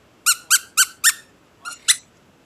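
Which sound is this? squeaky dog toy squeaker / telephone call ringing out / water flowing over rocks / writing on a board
squeaky dog toy squeaker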